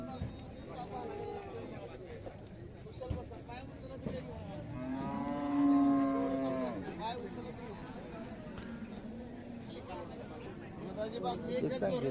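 A bullock lets out a long, deep moo near the middle while people talk in the background of a noisy outdoor crowd at the Sangola cattle market.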